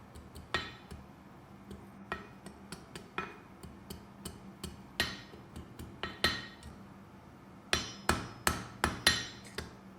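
Hot steel hammered on an anvil while forging a scroll for a beginner's heart project, in sharp ringing metallic strikes, singly and in quick bursts, loud and close with short pauses between blows.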